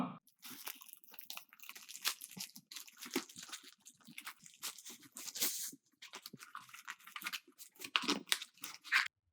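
The packaging of an RGB LED bulb is unboxed up close, with irregular bursts of crinkling, tearing and rustling and brief quiet gaps between them.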